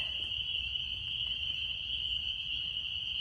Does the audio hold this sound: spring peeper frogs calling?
yes